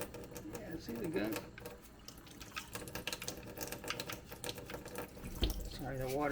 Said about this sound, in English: the water's making too much noise